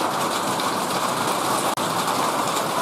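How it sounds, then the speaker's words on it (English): A brief stretch of steady heavy rain pouring onto and running off a gutterless roof, a dense continuous hiss with one tiny momentary dip. "It's raining. Look at that water running off the roof."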